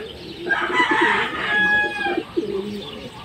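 Chickens and a rooster in hen pens give a close, loud crow with clucking and bird calls mixed through, over a busy farmyard background.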